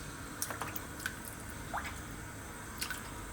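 Chicken legs dropped into a large pot of cold water give a few soft, close squishy plops and drips, scattered and faint against a quiet kitchen background.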